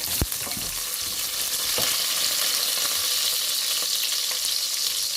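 Food frying and browning in a pan for dhaba-style maash dal, with a continuous close sizzle, a sharp utensil knock near the start and repeated stirring scrapes over the hiss.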